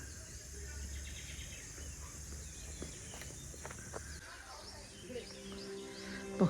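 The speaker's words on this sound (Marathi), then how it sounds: "पक्ष्यांचा मस्त चिवचिवाट आहे" Birds chirp and tweet in the Konkan countryside near mango trees in the Ratnagiri area, light scattered calls over a soft outdoor background with insects and occasional footsteps.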